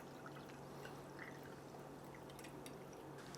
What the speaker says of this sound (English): We're gonna pour our soda water right down it to retain as much of the bubbles as we can.